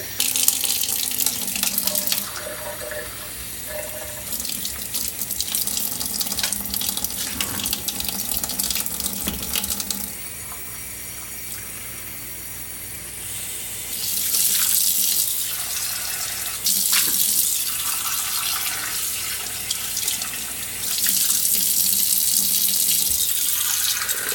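Running tap water splashes steadily while a Mishimoto compact baffled oil catch can is rinsed and scrubbed under a faucet, loud and continuous with surges and brief dips in flow, no talking.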